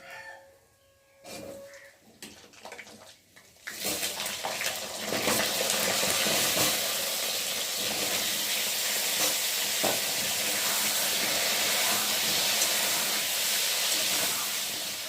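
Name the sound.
cut potatoes frying in oil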